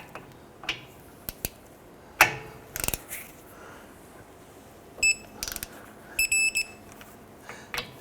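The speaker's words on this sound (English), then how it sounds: "Let's get and torque down our wheel hub bolts to 72 foot-pounds." Scattered mechanical clicks and a few short electronic beeps come from a torque wrench tightening wheel hub bolts to 72 foot-pounds on a 2009-2015 Honda Pilot. The sounds are sparse and fairly quiet against a low background.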